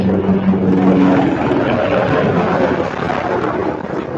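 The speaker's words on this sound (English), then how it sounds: "there's like a chopper or an Apache passing through. So loud." A military helicopter, an Apache, passes overhead, giving a loud, steady rotor and engine roar with some wind buffeting that holds across the whole stretch with no talking.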